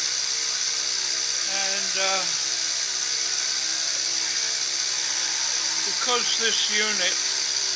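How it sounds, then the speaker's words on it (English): Side milling with a quarter-inch carbide end mill on a rough casting that can rock, a steady high whine of cutting running throughout, with someone talking over it. "I'm side milling. I've got a 1/4 inch end mill in there, carbide"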